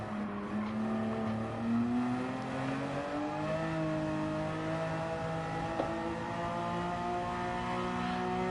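A race car engine in Gran Turismo 7, heard from the cockpit while driving slowly around Circuit Gilles Villeneuve, hums steadily with a gently rising pitch as it accelerates, holding a continuous drone throughout.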